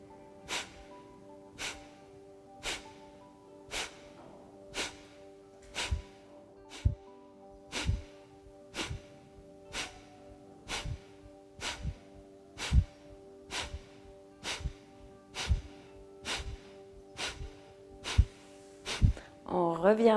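Rapid bellows breathing during a dynamic detox yoga session, sharp forceful nasal exhalations repeating in a steady rhythm of about one per second, close and clear over a faint sustained tone.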